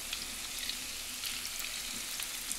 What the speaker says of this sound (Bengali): এবার দেখুন একটা একটা করে আমি তেলের উপর ছেড়ে দিচ্ছি।